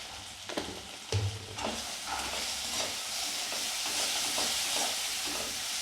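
Turmeric and spices fry in oil for a traditional koi fish dish, a dense, steady hissing sizzle with a few knocks and scrapes of stirring early on, close and continuous without talk.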